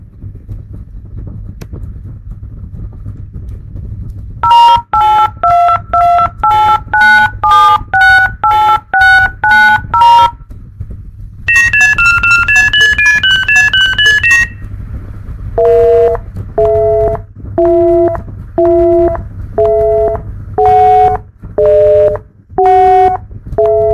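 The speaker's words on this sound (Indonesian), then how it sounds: "Di antara setiap nada angka, saya sisipkan variabel jeda yang berisi matriks 0 agar terdapat spasi keheningan antara nada persis seperti kita mengetik nomor HP" A synthesized sequence of DTMF phone-number dialing tones, clean beeps separated by short silent gaps in steady rhythm, with a faster run of higher-pitched tones in the middle and no talk.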